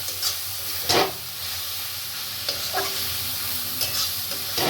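Greens with eggplant being stirred and dried in a hot pan, a continuous close sizzle broken by several sharp scraping strokes of a spatula.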